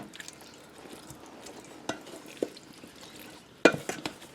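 Vegetables tossed with tomato pesto sauce for a tortellini salad with asparagus, giving soft, wet stirring and scraping with a few sharper clacks of utensil against bowl, close and fairly quiet, with no talking.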